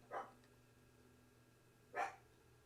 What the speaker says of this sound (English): Those dogs.